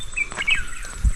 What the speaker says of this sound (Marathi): हे आहे पक्ष्यांचा आवाज येतोय